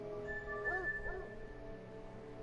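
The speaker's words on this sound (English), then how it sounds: "You hear him bark?" A bloodhound in theHunter Call of the Wild barks twice in quick succession, moderately near, over a steady low game ambience.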